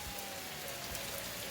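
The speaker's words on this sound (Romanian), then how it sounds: "plouă cu găleata, vreme de pește mare" Heavy rain pouring down at a fishing lake in April, a dense, even hiss of drops striking surfaces close by with no voices.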